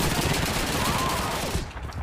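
Rapid, dense machine gun fire in the Call of Duty 2 video game, a loud continuous rattle of overlapping bursts that eases off near the end.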